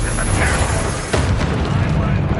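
Confringo fire-blast spell exploding during a fight at an encampment in Hogwarts Legacy, a loud booming, crackling burst with a sharp hit midway, set amid continuous combat noise.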